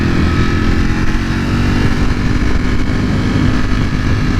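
A 2020 Ducati Panigale V4 R being ridden on the road, its engine droning loudly and steadily throughout with a deep, continuous rumble and heavy wind roar, no pauses.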